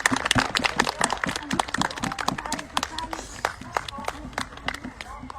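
Applause from a museum audience for costumed Gallo-Roman fashion presenters at a forum event, dense irregular clapping running throughout at moderate level, with voices mixed in.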